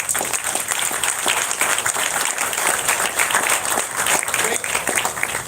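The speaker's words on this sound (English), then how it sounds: "So let's give them another round of applause" Crowd applauding steadily at an outdoor park dedication tied to Super Bowl 2020 events, dense sustained clapping throughout at even loudness with no gaps.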